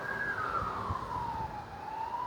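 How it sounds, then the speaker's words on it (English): Emergency vehicle siren wailing steadily at a moderate distance, its pitch sweeping slowly down and back up through the clip, faint beneath a soft background hum. "Notice the siren."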